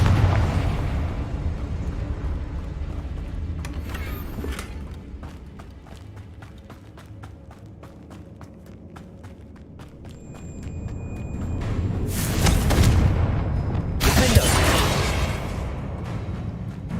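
Confringo blasting spells exploding in Hogwarts Legacy, with a rumbling low bed and two loud, sharp bursts near the end over faint footsteps and game ambience, no voices.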